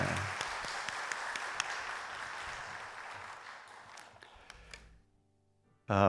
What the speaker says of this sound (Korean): 다시 한번 우리 박수요